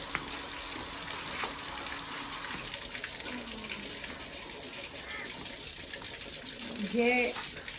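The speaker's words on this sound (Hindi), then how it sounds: "हाँ पानी भर दिया मैं। हाँ मोटर बंद कर दो।" Water pumped by a motor fills a container in a steady continuous gushing rush at moderate level, with a brief louder surge near the end.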